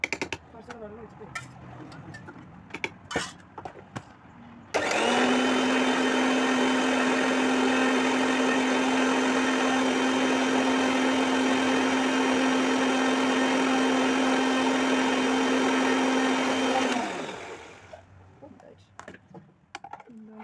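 An electric kitchen mixer grinder blending something with a little water starts abruptly, whirs loudly with a steady high motor whine for about twelve seconds, then winds down. People talk before and after it.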